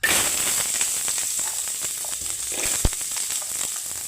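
Steady sizzling hiss of shallots frying in hot oil, with scattered small crackles and pops throughout, close and fairly loud.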